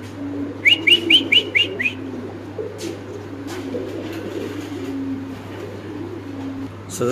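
Pigeons coo in a low, steady murmur at a pigeon seller's stock, including red-eyed gorra pigeons, with a quick run of about six bright chirpy calls near the start and a few faint clicks later.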